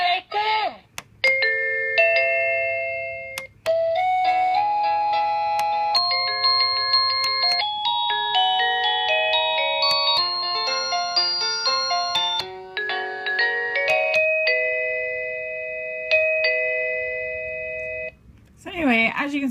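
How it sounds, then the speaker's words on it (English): An Anpress wireless doorbell cycles through a series of chime and music tones, each short electronic melody ringing out clearly and loudly in turn, with brief pauses between them. "So you can go with the music options or just the regular doorbell"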